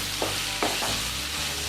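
A pan of spices frying for a spiced cabbage dish, with coriander powder, red chili powder and salt, stirred a few times, each stroke a soft scrape over a steady close sizzle.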